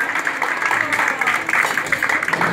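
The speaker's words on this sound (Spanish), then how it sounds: "Un aplauso." Steady crowd applause with dense clapping and some cheering, sustained and fairly loud throughout.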